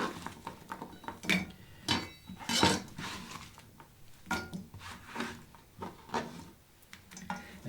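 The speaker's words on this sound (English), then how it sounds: "It's time to put them in a skillet and start frying them up." Chopped vegetables tipped into a skillet for frying: close, irregular clatter of utensil and pan, with scraping, knocks and light clinks, and no voices.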